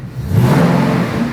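A Ford Coyote V8 swapped into an F100 truck revs briefly, rising in a close, loud, rumbling surge and then holding at a steady, throaty idle-to-mid roar.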